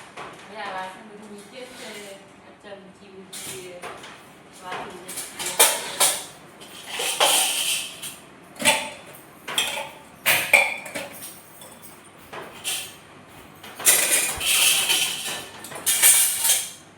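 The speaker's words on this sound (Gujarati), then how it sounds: "હવે સાફ કરું છું. વાસણ ગોઠવા જશે." Kitchen utensils are washed and put away at home, with intermittent metallic clinks, clatters and knocks of pots and dishes scattered over several seconds, close by and fairly loud, with faint talk in the background.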